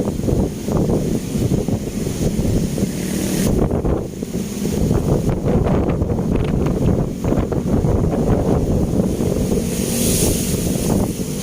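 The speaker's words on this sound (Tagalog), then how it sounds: "lakas ng hangin" Loud buffeting wind roars into the microphone at a Manila Bay seawall, with surf and waves churning underneath, gusting strongly and continuously.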